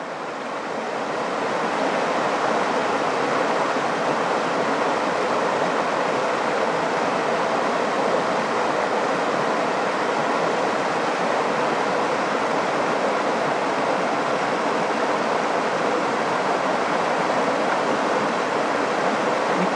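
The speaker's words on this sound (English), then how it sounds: "Like, look at that nice little fall." A small waterfall pours in a steady, broad rushing roar that stays constant and fairly loud throughout, with no voices.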